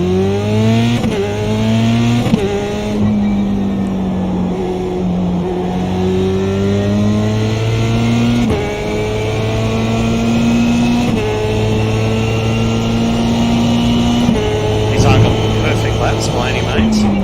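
Formula 3 race car in the iRacing sim, engine droning steadily and climbing through the revs, with sharp breaks at each upshift, running continuously and up close.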